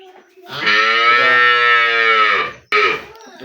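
A cow gives one long, deep moo up close, then a brief second call follows right after.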